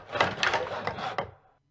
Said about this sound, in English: this is a combination of sawing wood, dropping a pile of wood that we had in the studio, and banging on wood with a hammer as well